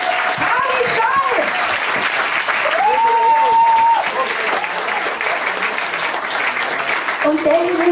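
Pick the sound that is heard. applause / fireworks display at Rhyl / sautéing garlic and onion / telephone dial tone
applause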